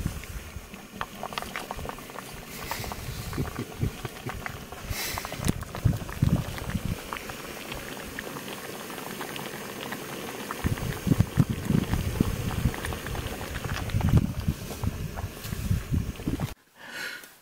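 A food pouch of Thai vegetable peanut curry boiling in water on a camp stove outdoors gives a continuous close bubbling and popping for most of the stretch, then cuts off abruptly near the end.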